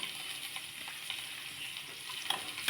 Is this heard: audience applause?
no